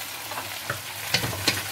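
Beef frying in a pan while it is stirred, giving a steady loud sizzle broken by a few scraping, clattering stirs, with no talking.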